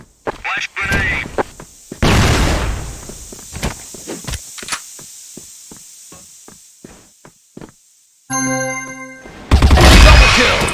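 In PUBG, a rapid string of sharp gunshots cracks near and far, followed by a flash grenade's piercing ringing tone and a final burst of loud noise.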